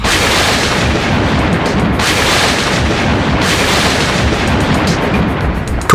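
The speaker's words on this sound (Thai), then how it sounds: "ทุกครั้งที่ปล่อยหมัดออกไป ก็จะเกิดเสียงคำรามและขึ้นปราณ" Loud, booming blasts of animated martial-arts punches hit in quick succession, each a dense explosive burst that roars and fades into the next, with no voices.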